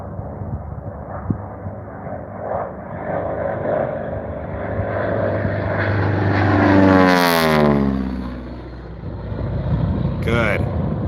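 AT-6 propeller aircraft racing past the pylons, its engine drone rising to a loud close pass with a sweeping pitch drop, then a second quicker rush, with someone talking underneath.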